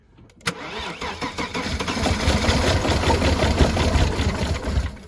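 A farm car, an old Saab 900 or Subaru Brat, cranks briefly then catches and settles into a loud, steady, slightly uneven idle close by, with no talking.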